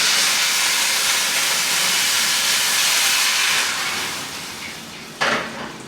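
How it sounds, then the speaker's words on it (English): Steady loud sizzling hiss of water added to hot frying oil while cooking eggplant and quinoa, fading slightly toward the end, then a brief sharp burst of sizzle and spatter. "Be careful when you add the water into the oil, it may splatter"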